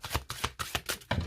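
Cards from an oracle deck being shuffled and handled, a series of about six quick riffling bursts in a steady rhythm, close and fairly soft, with no voices.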